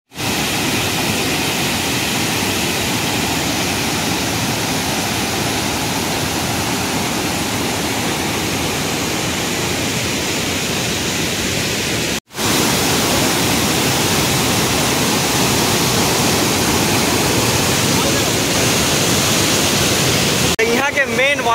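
The Devpahari waterfall in Korba roars as a loud, steady rush of falling water up close, cutting out for a moment around the middle before resuming just as strongly.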